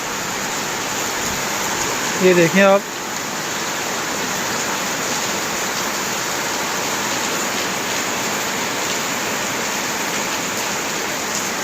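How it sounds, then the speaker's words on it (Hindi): Heavy rain pours on a street in the Jalan Seri Sentosa area of Kuala Lumpur, a dense, steady hiss that fills the whole stretch while someone speaks briefly near the start. "बड़े ज़ोर से बारिश हो रही है"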